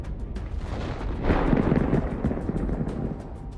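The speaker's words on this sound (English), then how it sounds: "Thermal traps ignited and detonated in sequence, creating a spectacular scene." Tank ammunition and thermal traps detonating after a drone strike, heard as a sustained roaring, crackling rumble of bursts that swells around the middle and stays loud, with no voices.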